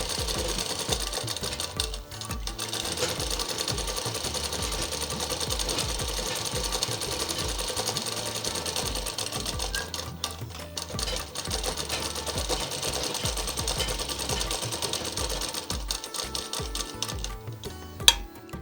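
A sewing machine runs a double-fold hem along the bottom of a girl's frock, close rapid clattering stitches in long bursts with a couple of short pauses and a sharp knock at the end.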